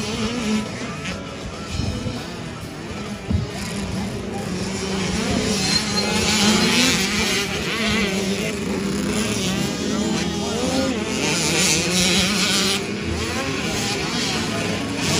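Youth 65cc motorcycles racing in a PCAX future-star event, shrill two-stroke engines revving and droning at a steady loud level as they pass, with a voice talking over them.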